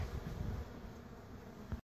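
A steady, close buzzing of honey bees at a hive hums throughout, dense and continuous, ending with a short click.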